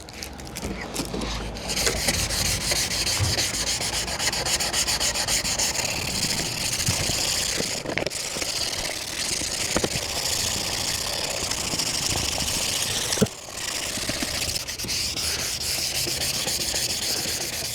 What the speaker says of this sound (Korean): 사포는 600방짜리 사포입니다.